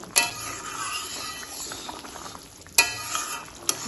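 Chicken curry gravy with salt, turmeric and split green chillies is stirred in a pan, a soft simmering sizzle broken by three sharp clinks of a spoon against the pan.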